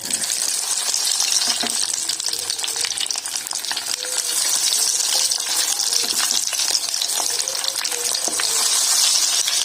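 Chicken drumsticks frying in hot oil, a loud, close, continuous hiss and crackle with small pops throughout, steady and without talk.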